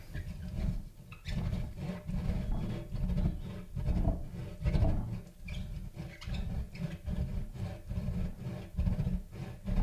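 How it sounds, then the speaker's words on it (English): A hard, salty cheese for Cypriot-style lasagne is grated on the fine side of a grater, soft rhythmic rasping strokes repeating steadily at close range, fairly quiet, with no voices. "grating this on the thin side"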